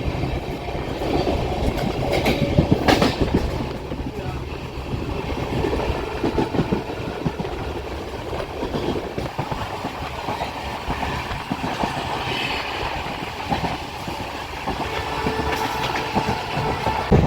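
The Pamban Express, running from Rameswaram to Chennai Egmore, rolls along the rails past Mandapam with a steady loud rumble and rhythmic clickety-clack of wheels, heard from on board throughout with no talk.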